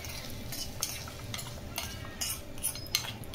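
Cooked diet recipe food is scooped from a pan into a dish with a spoon, giving quiet scrapes and a few sharp metallic clinks against soft background noise, with no talk.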